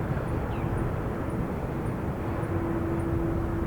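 Airliner rolling for takeoff on runway 28 left in strong wind, a broad, steady jet roar with low rumble, constant and fairly loud, no voices.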